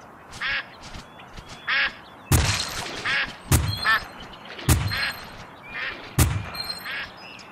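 A flock of ducks in the Duck Dynasty video game quacks in short, repeated calls, with four loud, sharp gunshot-like thumps spaced out between them.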